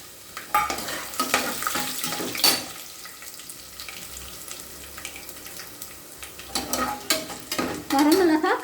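Dried red chilies and chana dal frying in hot oil give a steady sizzle with scraping stirs, some louder spatters and a clink near the end, with no voices.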